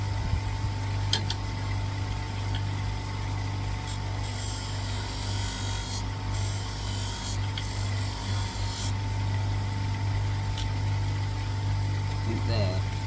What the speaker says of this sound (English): Now we move on to the polyurethane wheel.